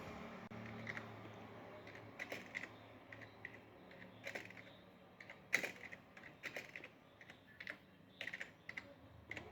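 Typing on a computer keyboard, irregular bursts of quiet close clicking keystrokes with brief pauses between runs, faint against a low room hum.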